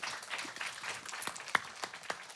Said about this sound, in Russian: я думаю, что здесь нужно провожать тоже бурными аплодисментами